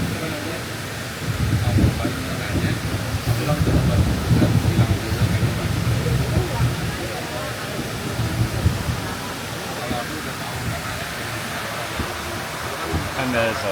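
A Gaustabanen mountain train at Gaustatoppen, Norway, rumbles slowly past with a continuous low roar and rattle, steady and fairly close, while people talk over it.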